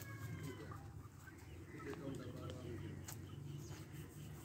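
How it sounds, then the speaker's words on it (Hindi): A flock of desi hens clucks and murmurs close by in a steady farmyard chatter, while a person speaks over them. "ये 20 हैं मुर्गियां"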